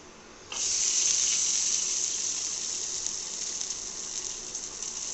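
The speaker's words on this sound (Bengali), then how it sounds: "এখন আমি পেঁয়াজগুলোকে একটু রেড করে ভেজে নেবো" Onions hit hot oil in a kadai with a sudden loud hiss, which settles into a steady, bright frying sizzle that carries on alone.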